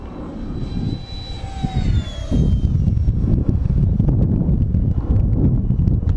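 Hobbyking Sport Jet 70 RC model jet making a high-speed pass outdoors, a steady roaring whine with a falling pitch sweep as it goes by, buffeted by heavy wind noise.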